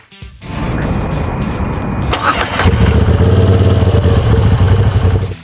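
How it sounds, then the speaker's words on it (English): A Moto Guzzi V7 Stone motorcycle engine starts and idles, then revs up to a loud, steady, throaty rumble, close by. "The engine rocks side to side when you rev it"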